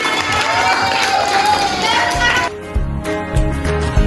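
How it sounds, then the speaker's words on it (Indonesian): A school audience at SMPN 10 claps and cheers with excited crowd noise and shouting children, lively for a couple of seconds before dropping abruptly to quieter background sound. "Tepuk tangan semuanya"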